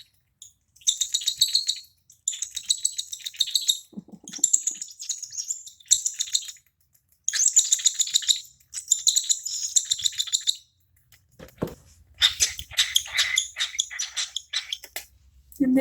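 A baby cockatiel chick gives hungry begging calls during feeding: rapid, repeated high raspy chirps in short bursts, loud and close, with a fuller flurry near the end.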